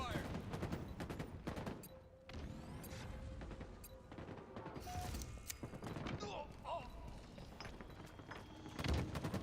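Gunfire during a competitive Halo match, with bursts of shots and mechanical clatter under a busy mix of game sounds, alongside occasional voices.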